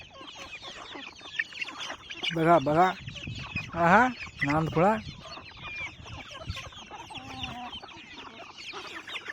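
Several free-range village chickens cluck and squawk in repeated bursts nearby as they feed, with someone talking in between over a background of scratching and pecking.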